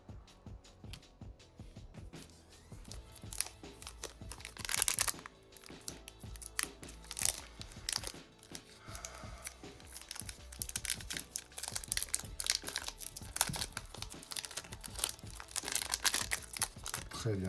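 A One Piece TCG booster pack's tightly sealed foil wrapper is torn and crinkled open by hand, giving a long stretch of close, irregular crackling and ripping, with no speech.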